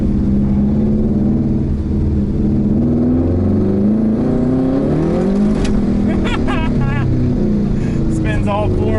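A turbocharged, LS-swapped FC RX7 accelerates hard on a driveway with all four tires spinning. Its loud, rising engine roar and exhaust drone are joined late by squealing tire chirps.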